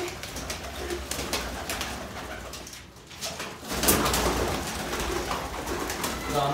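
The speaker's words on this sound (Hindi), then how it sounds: "रामपुरी कबूतर है, ये सारे रामपुरी हैं" Several Rampuri pigeons coo in soft, overlapping throaty calls close by, with a brief lull midway before the cooing swells again.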